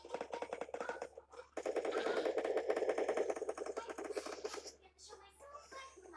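Rapid, dense bursts of automatic gunfire from an online shooter video game rattle almost continuously, with players talking loudly over them.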